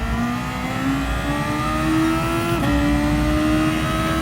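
A race car engine howls as it accelerates on the Suzuka circuit in a racing video game, a loud, continuous rising whine that briefly dips at a gear change before climbing again, with no voices.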